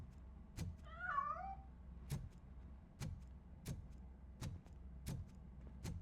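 A single cat meows once early on, a rising, wavering cry inside the Robocop Rogue City video game, set against a low hum and a series of regular, evenly spaced sharp clicks or taps.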